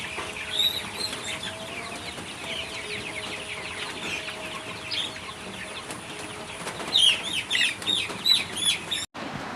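Young broiler chickens on a poultry farm, a continuous soft clucking and chirping chorus at moderate distance, with a few sharper calls near the end and no talk.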